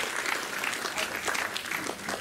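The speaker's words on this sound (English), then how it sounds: "Give him a round of applause." Zoo audience at a crocodile show clapping for Reggie the crocodile, a steady, moderately loud round of applause that holds for the whole stretch.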